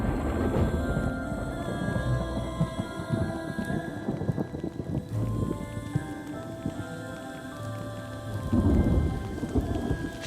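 Steady light rain patters continuously while rolling thunder rumbles low beneath it, swelling louder near the end, with no voices.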